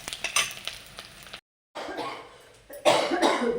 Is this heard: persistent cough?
yes